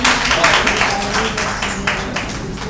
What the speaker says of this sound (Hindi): प्रभात जी के लिए एक बार ताली।